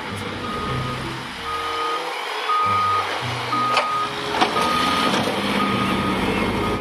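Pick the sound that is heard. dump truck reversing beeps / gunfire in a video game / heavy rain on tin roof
dump truck reversing beeps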